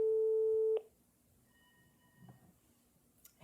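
A telephone intercom rings with a single steady electronic tone lasting under a second, then cuts off, leaving a quiet room with faint murmurs and a brief higher chirp near the end.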